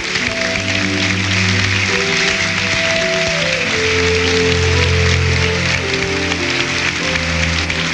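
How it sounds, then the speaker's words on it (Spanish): A theatre audience at the 1994 APES tribute ceremony for actress Silvia Piñeiro at Teatro Teletón, Chile, gives loud, sustained applause, a dense, rain-like roar of clapping with music playing softly beneath it throughout. "Y con este gran aplauso"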